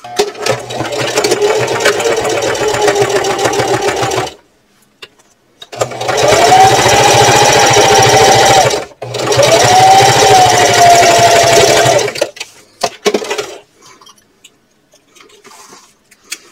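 A sewing machine topstitches a purse at a 1/8 inch seam, running in steady, loud bursts with short pauses between runs and a fast mechanical chatter throughout.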